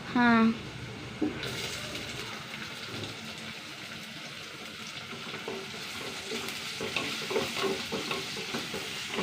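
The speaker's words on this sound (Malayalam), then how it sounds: "ചെറിയ സവാള ഒന്ന് മൂത്ത് വരട്ടെ" Small onions frying in a pan with shallots, garlic, ginger and green chillies, a steady soft sizzle with occasional stirring scrapes, a brief voice near the start.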